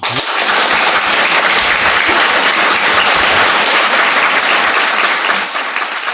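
A studio audience applauds steadily and loudly for a doctor in Canada, dense clapping holding for several seconds with no talking over it.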